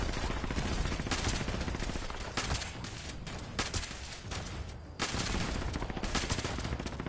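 Rapid gunfire from a Fallout 76 firefight, with dense, continuous shots crackling loudly across the whole stretch and a brief dip before the shooting surges again.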